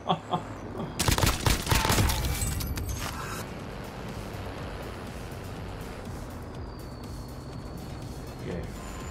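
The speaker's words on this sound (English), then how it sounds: "Someone else is shooting at me from 100 meters away." Gunfire in Call of Duty Warzone: a loud burst of rapid shots from a PPSH-41 or nearby weapons early on, then fading into steady background game ambience with faint distant sounds.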